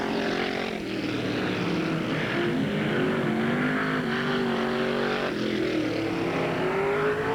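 Race cars in a heat race at a speedway oval, a loud continuous engine roar with rising and falling pitch as several cars run together, no speech.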